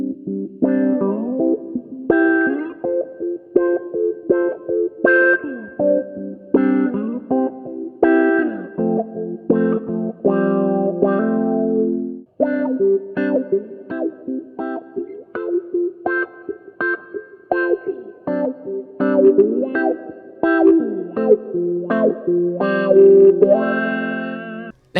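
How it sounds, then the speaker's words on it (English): Electric guitar run through an AITONE autowah envelope filter and a wah pedal, playing plucked notes and chords with sweeping vocal-like filter swells, loud and up close with short pauses between phrases. "let's kind of hear some comparison clips between the two of those and how those sound"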